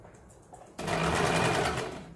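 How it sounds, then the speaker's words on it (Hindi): A sewing machine stitches along the edge of fabric for a neckline, starting abruptly after a brief quiet moment and running as a steady, close whirring hum that eases slightly at the end. "अभी यहाँ पे हमें किनारी पे एक सिलाई लगानी है इस तरह से।"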